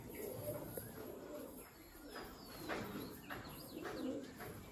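Chatiyal pigeons coo faintly in the background, soft rolling calls repeating with light chirps, distant and quiet with no voice over them.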